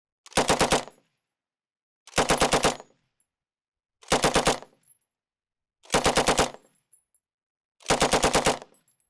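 A Bren light machine gun in the Hell Let Loose video game fires five loud, evenly spaced bursts of rapid shots, each lasting under a second with short silent gaps between them, with no talking.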